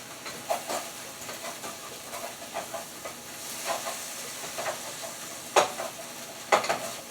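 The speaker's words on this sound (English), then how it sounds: "You gotta keep stirring this." A pan of mushroom soup with flour being stirred on the stove, giving soft scraping swirls over a low sizzle, with a few sharper clinks of the utensil against the pan and no voices.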